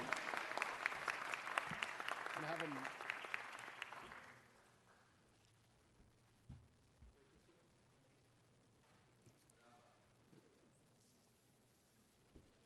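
Applause from a council meeting audience for a mariachi group, a dense sustained clapping that fills the room for about four seconds before stopping abruptly, leaving a quiet hall with a few faint knocks and shuffles.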